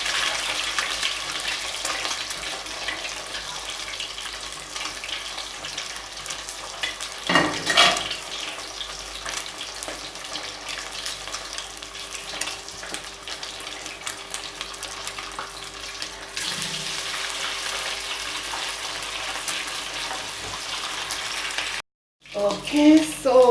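A grey angelfish tail fries in a skillet with a steady, even sizzle and crackle, close and continuous, with a brief clatter near the end.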